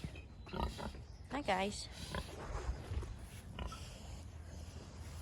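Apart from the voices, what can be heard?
pigs oinking on a farm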